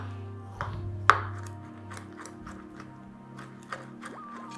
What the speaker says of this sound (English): and then I'll chop up the dried cranberries.